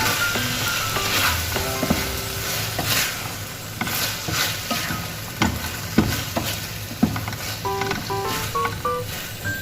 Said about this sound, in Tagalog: Maglagay tayo ng oyster sauce. Konti din. Saka haluin.